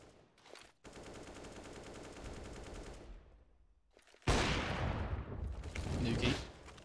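Rapid automatic gunfire from a Counter-Strike esports match, with sustained bursts of rattling shots, a brief pause, then a louder, sharper volley close up, with caster talk faintly underneath.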